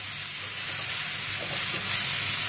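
Shrimp sizzling in a pan with chili powder as they are stirred, a steady, fairly quiet frying hiss that holds even and continuous throughout.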